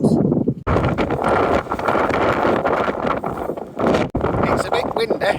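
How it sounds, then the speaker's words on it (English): Gusty wind buffets the microphone on a hillside walk near Matlock toward the Nine Ladies stone circle, a loud, steady roar with brief drops in force. "It's a bit windy"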